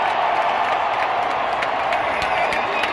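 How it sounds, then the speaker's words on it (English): A stadium crowd at a Cardinals football game roars and applauds in a loud, steady wall of cheering that fills the whole stretch without a break. "Everyone's cheering real loud because Larry Fitzgerald just came in."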